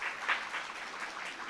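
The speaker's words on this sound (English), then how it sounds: "let's give a round of applause to" Applause at a monthly meeting of a gardening association honouring an absent award recipient, a fairly soft, steady patter of clapping from a modest crowd in a room, with no voices on top.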